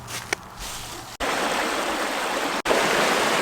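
Creek water flows in a steady, close broadband rush, interrupted by two brief cuts, with nothing else over it.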